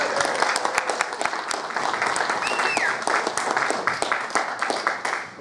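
Audience applause for guests at a panel talk at Play Expo Blackpool 2019, steady dense clapping from a hall crowd filling the whole stretch, a few whoops standing out.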